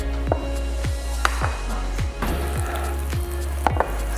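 Fish frying in a pan, a steady sizzle under a low hum, with several sharp utensil clicks and taps at irregular intervals and no talking.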